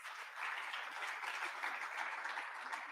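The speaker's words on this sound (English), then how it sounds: "I think this one deserves a round of applause" Audience applause at a university ceremony honoring the Chancellor, President Mbeki, a steady wash of clapping from a hall full of people held at an even level throughout.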